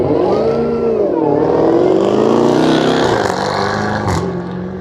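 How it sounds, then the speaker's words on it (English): A Jaguar sports car's Ferrari V8 engine revs loudly and continuously at a hillclimb racing event, its deep throaty pitch rising and falling before tapering off slightly at the end. "Really robust engine here"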